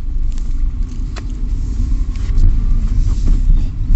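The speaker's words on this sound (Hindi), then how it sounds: "ये जैसे मैंने फर्स्ट गियर लगाया" A car pulls away in first gear, its engine giving a steady close rumble inside the cabin that rises slightly in the second half, with faint rattles over the drone.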